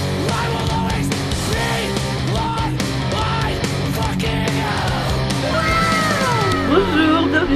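A purebred cat meows repeatedly over busy background noise and talking, with a longer drawn-out meow near the end.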